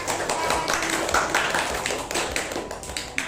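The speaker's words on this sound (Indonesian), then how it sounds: "tepuk tangan untuk kelompok" A classroom group claps steadily for a few seconds, a dense patter of hands that stays even in loudness, with faint voices mixed in.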